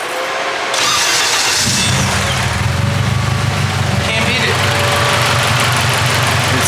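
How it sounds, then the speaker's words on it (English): An Integra GS-R converted to AWD cranks briefly and fires up, then settles into a loud, steady idle with a rough rumble, with people talking over it. "Car fires right back up."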